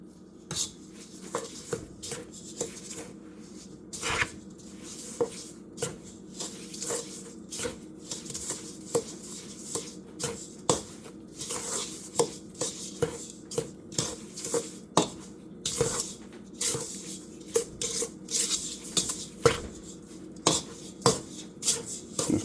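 Granulated sugar being worked into butter in a bowl for a lemon cake, heard as a steady run of close scraping and tapping clinks of a utensil against the bowl, repeated in uneven rhythm with no talking.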